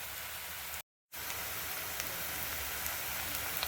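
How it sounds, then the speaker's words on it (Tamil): Onion, green chilli, capsicum and potato sauté in a hot pan, giving a steady, even sizzling hiss that cuts out for a moment near the start and then carries on unchanged. "பச்சை மிளகாய், கேப்சிகம், உருளைக்கிழங்கு எல்லாத்தையும் போட்டு வதக்கிக்கலாம்."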